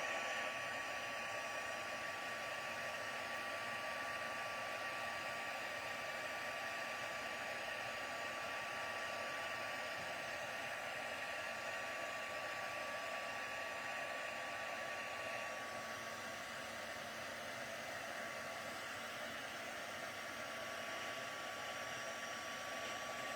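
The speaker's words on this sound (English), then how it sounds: "So heat gun on." A heat gun blows a steady, continuous whoosh over a stamped Christmas card, running unbroken and fairly even in level for the whole stretch with no voices.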